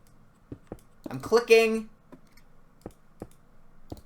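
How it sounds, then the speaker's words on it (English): Sparse, quiet computer mouse clicks, single sharp ticks spaced irregularly, with someone briefly talking partway through. "Look, I'm clicking."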